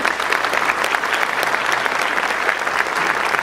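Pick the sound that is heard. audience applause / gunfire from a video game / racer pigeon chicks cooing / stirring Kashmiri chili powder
audience applause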